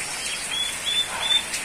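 A bird gives a few short, high, thin calls at a moderate distance over a steady hiss of rain, with no talking.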